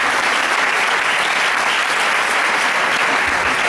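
Steady, dense applause from an audience at a business presentation, continuous and even throughout the short stretch with no voices over it.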